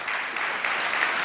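A conference audience applauds steadily, a dense wash of many hands clapping at an even level for the whole moment.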